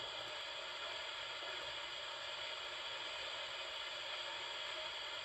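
Steady radio white noise hisses evenly and faintly without a break, with no voice or other sound over it.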